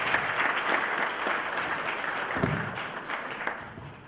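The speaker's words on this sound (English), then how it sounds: "a round of applause to our elders," Applause for the elders at a wedding church ceremony: a steady round of clapping from the congregation lasting the whole stretch, fairly even and moderately distant, with no talking over it.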